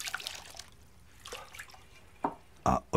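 Water in a bowl while feet are washed, with faint scattered splashes and drips, quiet and intermittent, a couple of sharper sloshes near the end.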